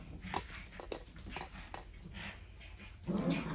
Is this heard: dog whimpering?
yes